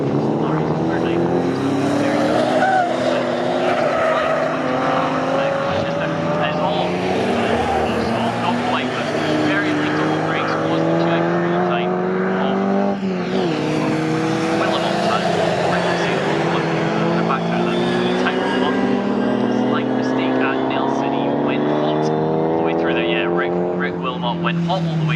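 Pre-1963 and 1950s historic race cars roar around Snetterton circuit, their engines rising and falling through gears in overlapping waves, loud and continuous for the full stretch, under steady commentary.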